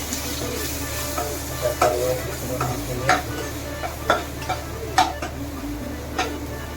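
Masala paste stirred in a frying pan for a traditional Konkan banana flower bhaji, a soft steady sizzle broken by repeated spatula scrapes and taps against the pan.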